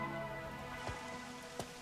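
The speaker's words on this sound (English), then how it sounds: "More rain." Rain falls steadily in the video game Rain Code, a soft continuous patter on surfaces with a few faint heavier drops, quiet and with no voices.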